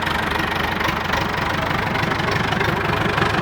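Salvaged backhoe engine running just after start-up, a steady close idle with a rhythmic diesel knock throughout and no talk.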